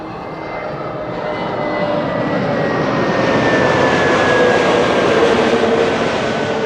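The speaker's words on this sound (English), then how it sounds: "EasyJet A320neo arriving from Gatwick first." An EasyJet Airbus A320neo jet airliner arriving at Amsterdam Schiphol on a sunny day, its engine roar swelling steadily as it nears, with a high whining tone drifting across the broad rumble, loud and continuous with no voices.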